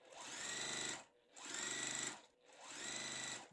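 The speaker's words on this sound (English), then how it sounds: "We are also going to sew another piece on the bottom right here." A sewing machine stitches a rose quilt block in three steady, humming runs, each about a second long, with brief quiet pauses between them. It sounds close and moderately loud, with no talking.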